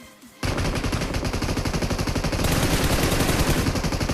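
Gunfire in the PUBG video game from an AWM and M416 erupts after a brief quiet start into dense, rapid automatic bursts, loud and continuous to the end.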